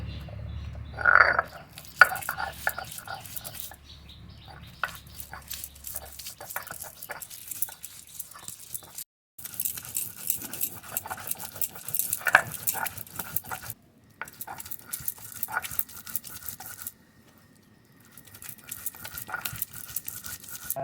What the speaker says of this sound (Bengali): মশলাটা ভেজে রেখেছিলাম এবার বেটে নেবো